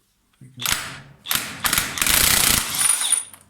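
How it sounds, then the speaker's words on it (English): Ratchet wrench loosening the primary chaincase nut on a Triumph Trident T150V motorcycle, a series of loud close mechanical clicking and grinding bursts that build into a sustained ratcheting rattle. "so let's see if that nut will come off"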